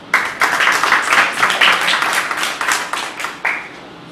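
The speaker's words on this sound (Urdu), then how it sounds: "جی ان کے لیے کلیپنگ کریں." An audience at a quiz-show prize presentation applauds, a dense burst of clapping from many hands that swells, wavers and tapers off over a few seconds, loud and close.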